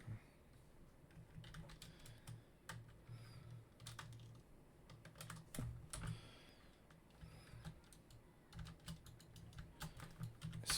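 Keys clack on a computer keyboard as terminal commands are typed in irregular bursts of quick taps and pauses, close and fairly quiet against a faint background hum.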